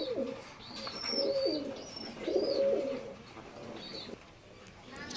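Soft repeated cooing from a pair of imported Oman bloodline teddy pigeons, several rolling coos close by with faint higher chirps between them.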